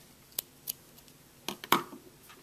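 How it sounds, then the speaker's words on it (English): Scissors snipping the loose end of crochet yarn for a small crochet football: a few quiet, close clicks, then a sharper pair of snips near the end, with no talk. "Cut my loose end."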